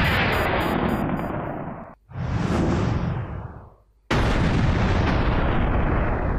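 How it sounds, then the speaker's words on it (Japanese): Explosions in the video game Craftopia after a switch is pressed, a heavy roaring blast that cuts off, a second swelling whoosh that fades, then another abrupt loud burst that rumbles on. "爆発したんだけど。"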